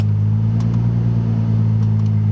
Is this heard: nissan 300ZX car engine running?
yes